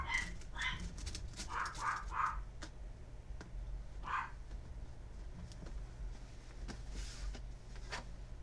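Dog barks, faint and somewhat distant, in a few short clustered yips and woofs early on, then a single bark later, over a low indoor hum.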